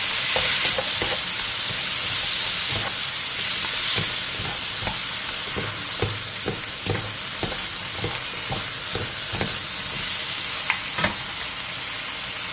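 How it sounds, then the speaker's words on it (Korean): Minced beef sizzles loudly and steadily as it is stir-fried over high heat with soju and pepper, with repeated sharp taps and scrapes of a spatula against the pan throughout. "다진 소고기 한 컵과 소주 한 스푼, 후추를 넣고 소고기가 익을 때까지 센 불에서 볶아주세요"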